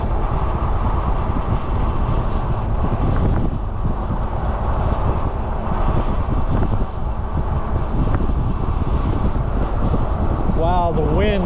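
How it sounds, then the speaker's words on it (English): Strong wind during an e-bike ride on an Upper Tampa Bay trail in Florida, a loud, constant roaring rush buffeting the microphone throughout, with a brief whistling tone near the end. "Wow, the wind is so incredible."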